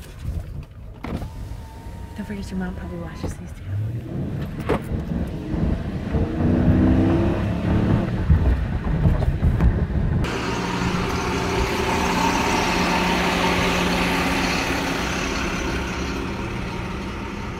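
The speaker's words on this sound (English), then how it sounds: "Let's get some engine revs here" A parked car's engine is revved several times, its rising and falling drone growing louder and staying steady through the latter half, with a person speaking briefly over it.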